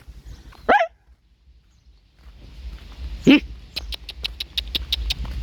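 A dog gives two short, sharp barks spaced a few seconds apart, clear and fairly close, over a low background rumble with faint clicking afterward.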